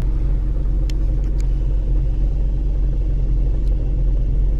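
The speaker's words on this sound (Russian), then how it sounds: "Попали в пробку." Steady low engine rumble fills the cabin of a car stuck in a traffic jam, loud and continuous, with a few faint ticks and no talking.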